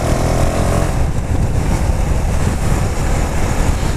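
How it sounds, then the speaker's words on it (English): KTM Duke 390 motorcycle on a highway ride, its exhaust a loud, continuous engine roar mixed with rushing wind, steady throughout at close range. "the exhaust note is awesome. Sounds good when you're riding it, sounds even better when you are trailing the bike."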